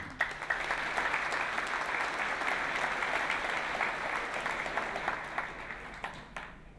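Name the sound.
audience applause welcoming a speaker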